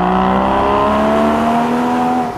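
A Porsche Boxster GTS climbs mountain hairpins on Mallorca in first gear, its engine revving loud and close in one smooth rising pull, with a faint edge of tire noise.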